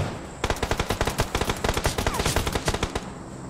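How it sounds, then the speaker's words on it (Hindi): Rapid bursts of automatic gunfire from the BGMI battle royale video game, dense repeated shots crackling loudly and steadily for about three seconds after a brief quiet start, with no talk. "ये बंदा मेरे को फायरिंग करने लगा"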